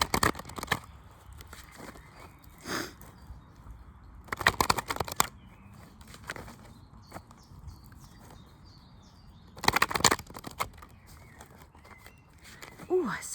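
A deck of tarot cards is shuffled by hand in a few quick riffling bursts separated by pauses, close by, with soft rustles in between.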